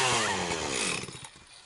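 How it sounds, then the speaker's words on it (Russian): A chainsaw for cutting firewood roars close and loud, its engine pitch sliding down as it winds off and fades toward the end. "Бери пилу и заводи."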